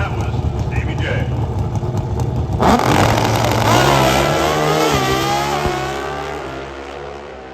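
Pro Stock motorcycles launching down an NHRA drag strip at the Gatornationals finals, a sudden loud engine roar rising sharply then fading as the bikes pull away, with an announcer talking throughout.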